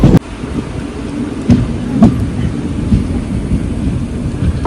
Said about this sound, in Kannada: ನೀವು ಕಾಣ್ತಿರ್ಬೋದು ಮಳೆ.